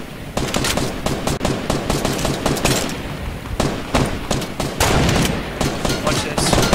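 Rapid automatic gunfire in an online shooter video game crackles continuously, dense bursts of loud shots layered close together with players talking over the action.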